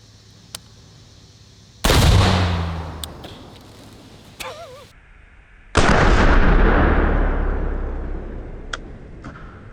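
Two loud AR-15 rifle shots crack out several seconds apart, each a sharp blast followed by a long, slowly fading boom as a fireball target goes up. Faint clicks and a short whistling sound fall between them.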